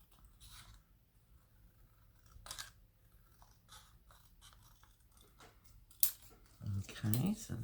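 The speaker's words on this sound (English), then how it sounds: "I might cut this strip here. Trying to cut it straight." Scissors snip through a strip of patterned craft paper for a vintage-style mini ephemera book, close and quiet with a few short cuts, then a louder rustle near the end, with brief talk in between.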